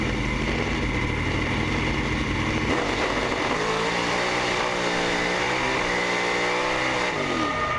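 A drag racing car with a slipping transmission roars continuously at close range, its engine pitch dropping and then sweeping upward again through the shifts instead of settling cleanly into each gear.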